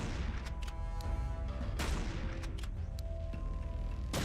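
Repeated shotgun blasts in a modded shooter game, sharp loud reports at irregular intervals with ringing tails and small metallic clinks of ejected shells between them.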